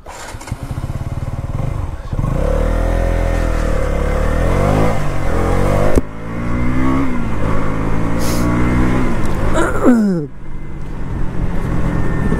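A 2024 KTM Duke 200 motorcycle engine idles, then revs repeatedly in rising and falling surges, loud and close, with a sharp final rev before dropping back to a lower idle.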